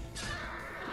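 A horse in the video game Warcraft 3 Reforged gives one brief, close neigh that lasts under a second.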